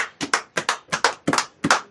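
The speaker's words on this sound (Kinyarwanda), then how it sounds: "Reka dukomere Imana amashyi mu izina rya Yesu." Rhythmic hand clapping from a church congregation, sharp close claps in a steady pattern of paired beats, with no talking over them.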